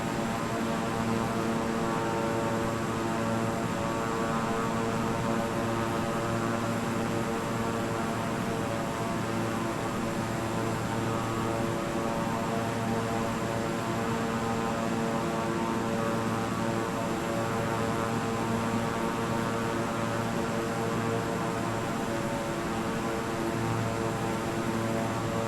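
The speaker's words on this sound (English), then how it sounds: "no matter how many times I've landed a plane in this game" A propeller airplane engine in Microsoft Flight Simulator drones steadily and evenly for the whole stretch, a constant tonal hum that never changes.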